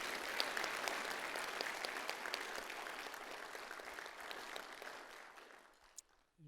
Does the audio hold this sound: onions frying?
no